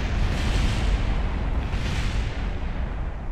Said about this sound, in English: And there's all the beautiful explosions.